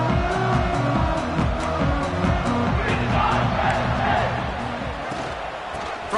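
A packed college football stadium crowd roars and cheers loudly and continuously at a Notre Dame versus Penn State game, a dense wall of fan noise that eases slightly toward the end.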